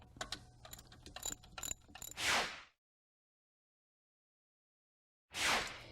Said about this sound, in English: And now we remove the upper bolt.